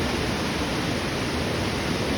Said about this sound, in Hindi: ये देखो भाई पानी का फ्लो देखो यहाँ